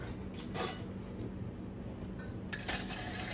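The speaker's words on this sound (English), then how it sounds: "I'm gonna stir." Martinez cocktail stirred in a mixing glass: repeated close, bright clinks and tinkles of ice and spoon against glass, irregular and light, with a sharper burst of clinking toward the end and no talking.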